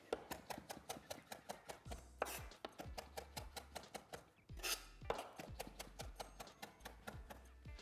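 Fresh herbs for butter are chopped with a sharp knife on a board, fast even rhythmic knocks with occasional rocking pauses, close and fairly soft.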